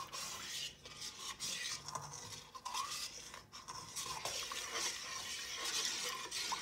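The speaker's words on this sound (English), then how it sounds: "And I'm gonna stir this in." A gelatin mixture for a homemade gel printing plate is stirred with continuous soft scraping and swishing in a container, close and fairly quiet, with no talking.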